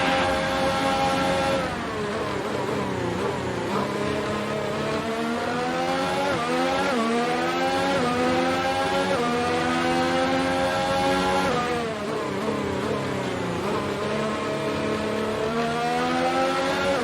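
Engine of an F1 race car in the F1 2019 video game at the Hungarian Grand Prix, rising and falling through repeated high-pitched revving gear runs, loud and continuous with a brief dip partway through.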